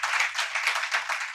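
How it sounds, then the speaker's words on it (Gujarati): An audience applauds two speakers at a Gujarati saint-literature gathering, steady dense clapping sustained throughout with no speech over it. "બંને વક્તાઓનું ખૂબ તાળીથી અભિવાદન કરીશું."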